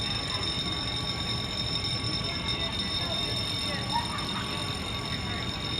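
A hotel fire alarm sounds at midnight as a steady, continuous electronic tone that holds unbroken over a faint background hum and never pauses.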